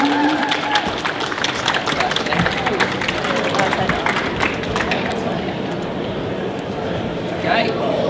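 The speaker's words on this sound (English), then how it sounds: "So we want to give them a big round of applause" An audience at a diving show main stage claps steadily for speakers coming on stage, a dense wash of applause with a voice talking over it.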